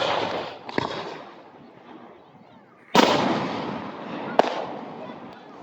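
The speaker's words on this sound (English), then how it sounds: "Now the fireworks have begun." Fireworks bursting at an outdoor firework show, two sharp booms followed by crackling decay, with a louder burst near the middle and a third sharp crack near the end.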